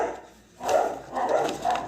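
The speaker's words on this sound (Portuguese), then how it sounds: "Sinfonia de cachorros." Several dogs barking at a distance in a short burst of two or three yaps, moderately loud over quiet background.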